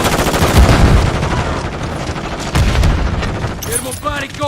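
A stun grenade goes off in a first-person shooter, part of a loud, dense burst of gunfire and booms with heavy low thumps near the start and again midway, while a voice talks over the game noise.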